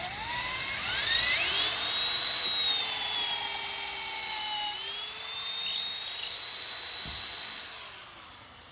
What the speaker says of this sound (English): Pick a random point, drill through it.